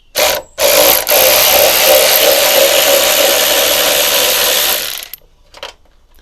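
A power ratchet or air tool spins off fasteners on a crashed Fiat 500 Abarth, one loud continuous mechanical whir lasting about four seconds, close by, after two brief bursts, then stopping.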